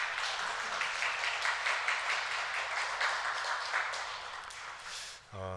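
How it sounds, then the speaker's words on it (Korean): A church congregation claps in sustained, dense applause that holds steady for several seconds and then tapers off near the end. "여러분 박수로 환영해 주시기 바랍니다."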